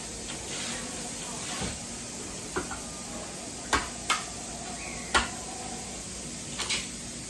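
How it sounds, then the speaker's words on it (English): A can is rinsed under running kitchen tap water while baking sweet potato pie squares. A steady hiss of water runs throughout, broken by a few light clunks of the can. "Gotta rinse off the can."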